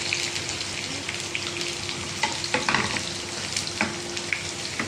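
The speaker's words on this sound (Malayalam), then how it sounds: "ഇതിൻ്റെ കൂടെ നമുക്കൊരു 2-3 കരിവേപ്പില, ഒരു 2 ചുവന്ന മുളക്, ഇതും കൂടെ ഇട്ട് പൊരിച്ചെടുക്കാം" Curry leaves and red chillies fry in hot oil for a green peas curry, giving a steady close sizzle with scattered crackles and pops and no voices.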